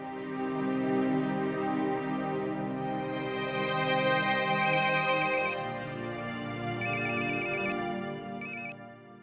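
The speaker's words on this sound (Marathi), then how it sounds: "रिंग जाते." A phone rings out with a repeating electronic ringtone melody, steady and clear, with brighter tone bursts recurring three times over the phrase and no talking.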